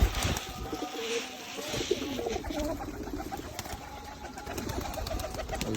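A loft of hungry domestic pigeons at feeding time, continuous overlapping cooing and soft fluttering close by, steady throughout with a brief faint voice near the start.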